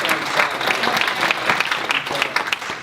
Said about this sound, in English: Let's give Rebecca a round of applause